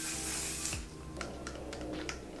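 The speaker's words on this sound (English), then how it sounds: "One size mattifying waterproof Until Dawn spray" A mattifying waterproof setting spray from Merit Beauty gives a close, soft hiss of spray that lasts under a second, followed by faint rubbing and light handling noises in a quiet room.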